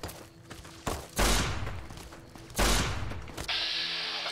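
Gatling gun fire in Fallout: New Vegas, two loud, heavy rattling bursts, each about a second long, followed by a sustained high mechanical whir.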